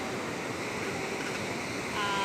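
Sea waves wash steadily onto Caba beach, a broad continuous roar of surf at close range that swells slightly louder near the end, with no voices.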